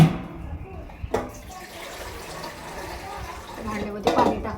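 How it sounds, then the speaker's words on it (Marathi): Water runs from a tap into a cooking pot, a continuous splashing fill with a couple of sharp clanks, while a voice is heard faintly under it. "भांड्यामध्ये पाणी टाकून घेते"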